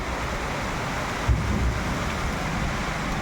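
Steady broadband wash of heavy unseasonal pre-monsoon rain with strong winds, with a brief low rumble partway through; no voices.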